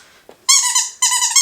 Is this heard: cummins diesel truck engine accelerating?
no